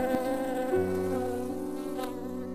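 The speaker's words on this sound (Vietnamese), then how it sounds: "Người ta đặt tên nó là con muỗi." A mosquito buzzes in an animated Vietnamese folk-tale cartoon: a steady, continuous high whine with no speech over it.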